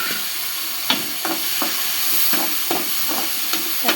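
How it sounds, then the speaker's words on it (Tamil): Tomatoes and onions sautéing in a pan, a loud steady hiss of frying with regular scraping stirs roughly every half second, close and without voices. "தக்காளி போட்டு நல்லா வதக்கணும்."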